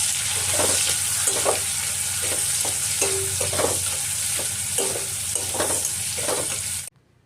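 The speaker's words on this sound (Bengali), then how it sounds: "আর ফড়ং থেকে একটা সুন্দর গন্ধ বেরিয়ে এলে আমি দিয়ে দিচ্ছি একটা বড় সাইজের কোচানো পেঁয়াজ। আর পেঁয়াজটাকে লাল করে ভেজে নেব।" Chopped onion fries in hot oil with whole spices, a loud continuous sizzle broken by a regular series of scraping stir strokes about every half second, cutting off abruptly near the end.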